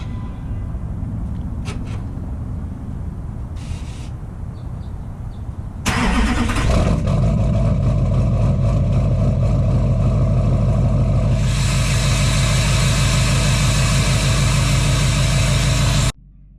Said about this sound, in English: you got to hear the exhaust. It sounds pretty gnarly.